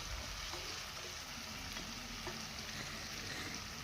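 Fried cauliflower florets go into a yogurt spice masala for a vegetarian cauliflower rezala, raising a loud, steady sizzle of hot oil with faint stirring scrapes throughout.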